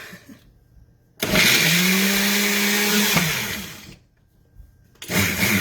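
A countertop blender on its ice-crush setting roars loudly for about three seconds with a steady whining hum, winds down, pauses, then starts again at the end.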